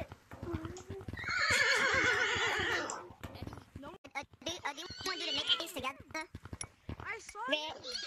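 A person imitates a horse, letting out a long wavering whinny up close, then a string of shorter neigh-like cries with clicking, clip-clop sounds between them.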